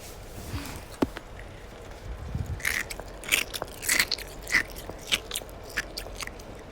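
Close-up crunching of ice being bitten and chewed, a series of sharp crackling bites and grinding crunches at an irregular pace, loud and near with no talking.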